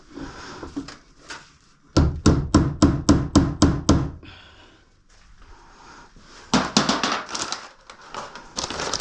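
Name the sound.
hammering a small nail to hang bandsaw blades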